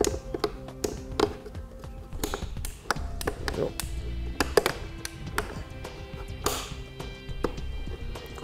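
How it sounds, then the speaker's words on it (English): Ratchet straps being tightened on a universal towing mirror fitted to a 2015 Toyota Tacoma, giving a steady run of sharp clicks and taps close by for several seconds with no talking. "we'll go ahead and tighten down the ratchet straps."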